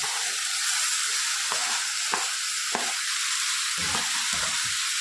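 Chopped small tomatoes go into vegetables frying in a pan for sambar, a loud, continuous close sizzle and hiss with occasional clicks of a stirring spoon, no talking.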